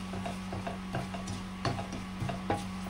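Panch phoron spices fry in oil in a pan while being stirred, a soft sizzle under periodic scraping stirring strokes, with a steady hum beneath.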